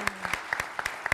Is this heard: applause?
yes